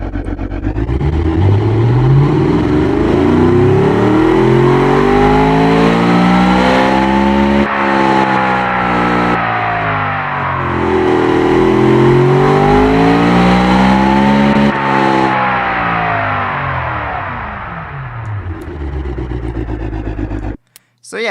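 A 5-litre V8 muscle GT car engine in a racing video game revs loudly and continuously, its pitch sweeping up and down in long waves through several rises and falls before cutting off abruptly at the end.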